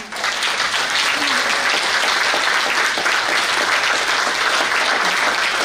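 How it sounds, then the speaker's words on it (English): Loud, sustained applause from a meeting audience honouring Steve Cuppy, a thick steady roar of many clapping hands lasting several seconds, with a faint voice briefly underneath. "I just want to have a round of applause for Steve Cuppy."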